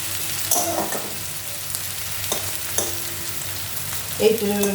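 Steady sizzling of onions frying in a pan, with a few clinks and scrapes of stirring scattered throughout; no voices.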